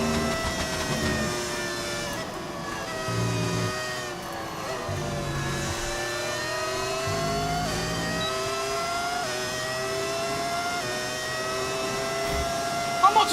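A Cadillac Formula 1 car in F1 25 races around the track. Its high-pitched engine whine climbs and drops through repeated gear shifts and revs, loud and steady, with a voice talking faintly underneath.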